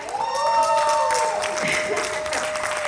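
Audience applause at the 2021 National FOI Ranking ceremony as the Nigeria Investment Promotion Commission is named winner, a steady dense wash of clapping under a sustained tone and voices.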